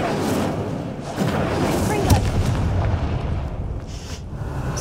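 An Incendio fire spell in the Hogwarts Legacy video game bursts in a loud, dense, continuous roaring blast that stays heavy for nearly five seconds.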